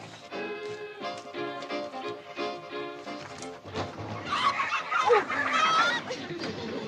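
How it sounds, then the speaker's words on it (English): A dense chorus of chickens in a crowded train car cackles and squawks, loud and close, with a burst of agitated calls toward the end. "We'll have to ride with a carload of chickens."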